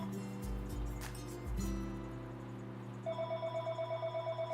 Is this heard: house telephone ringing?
yes